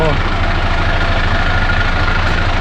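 A remapped 240-horsepower Isuzu six-wheel dump truck engine idles loudly and close, with a steady, deep, rumbling throb.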